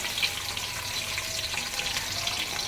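Thick-cut onion rings hit hot oil for lauki gosht, producing a continuous, close crackling sizzle at even loudness throughout, with no speech.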